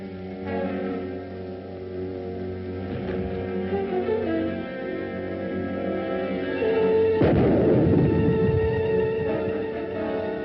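A hand grenade blast from an old 1950s film serial lands as a sudden, loud burst that rumbles and fades over a couple of seconds, set against continuous background music.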